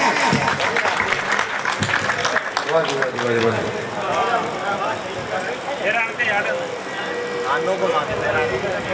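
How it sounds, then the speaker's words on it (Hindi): A crowd at a Haryanvi cultural birthday gathering breaks into loud clapping, dense and continuous, with voices and an announcer talking over it throughout. "जोरदार तालियां"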